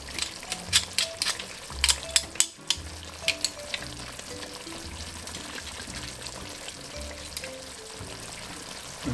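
Garlic sizzles in a pan for Jamaican brown stew beef, a steady frying hiss broken by sharp scraping and clinking as it is stirred, with a short gap midway and no talking.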